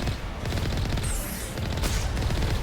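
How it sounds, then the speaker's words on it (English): Sustained gunfire in the Mass Effect video game, a dense, loud, continuous volley of rapid shots with booming hits filling the whole stretch, no talking over it. "it's big enough to be shooting at us."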